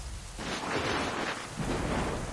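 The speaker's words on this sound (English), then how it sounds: "The storm's getting worse." Thunderstorm ambience in the Assassin's Creed Rogue video game, a steady loud rush of rain with low rumbling thunder swelling twice, no voices.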